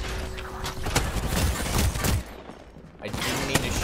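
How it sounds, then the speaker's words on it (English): Video game gunfire as a player accidentally shoots their own deployed cover: dense, rapid shots in bursts with a short pause midway, then more firing, fairly loud throughout. "I didn't mean to shoot my own cover."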